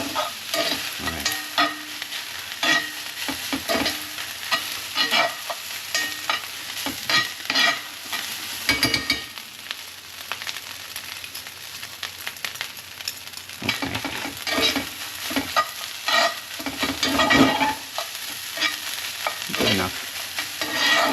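Rice stir-fried in a pan for a lunchbox meal, with steady scraping and stirring strokes over a continuous sizzle, close and fairly loud, interrupted briefly by short pauses.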